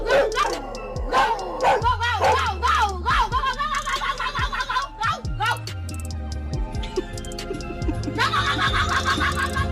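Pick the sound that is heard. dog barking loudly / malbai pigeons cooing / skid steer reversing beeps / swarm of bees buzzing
dog barking loudly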